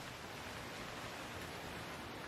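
Rain beating down steadily on an umbrella in a sleep-ambience scene, a dense, even hiss at low level with no pauses and no other sounds.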